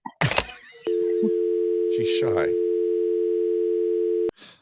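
A steady telephone dial tone sounds after a call is hung up, a loud continuous hum lasting over three seconds with people talking over it, starting and ending abruptly.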